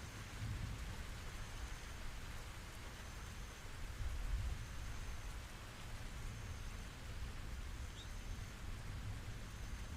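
Steady rain falls in a continuous, even hiss that holds at the same level throughout, with no pauses and no voices.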